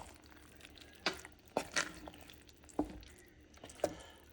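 Crockpot taco casserole given a final stir with a spoon, soft wet squelching and scraping strokes coming in a few separate bursts, quiet and close, with no voices.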